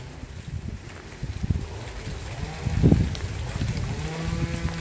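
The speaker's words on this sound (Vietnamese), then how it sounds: "Trời mưa mà còn gió nữa." Rain with gusting wind outdoors in a rural coconut grove, a soft steady wash broken by buffeting microphone gusts and occasional dull knocks, with no talking.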